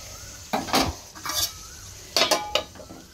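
Nigella seeds, green chili, onion and eggplant frying together in fish oil, with a soft sizzle beneath a few sharp scrapes and clinks of a spoon against the pan, coming in short bursts.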